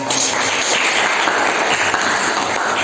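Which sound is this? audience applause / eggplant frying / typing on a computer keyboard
audience applause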